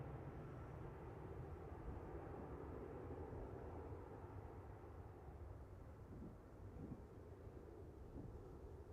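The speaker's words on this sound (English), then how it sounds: "Pretty loud for such a small plane." A small plane flies over Manchester Airport, a steady, faint, distant engine drone blended with low wind rumble, continuous throughout with no clear rise or fall.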